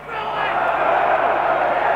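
A stadium crowd at a 1999 Australian rules football match between Brisbane and St Kilda roars steadily, voices merging into a loud, sustained shout that swells early and holds for about two seconds.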